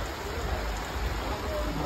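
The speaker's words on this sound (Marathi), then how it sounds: "पाऊस पण खूप आहे" Heavy rain pours in a dense, constant hiss, close and loud, with no break.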